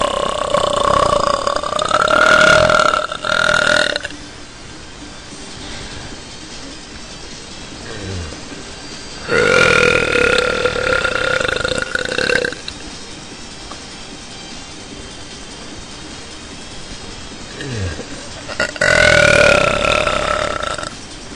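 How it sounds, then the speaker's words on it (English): Three long, loud, deep belches come one after another, each lasting a few seconds, with quieter gaps between them. "I'll just keep belching while I try and put it in."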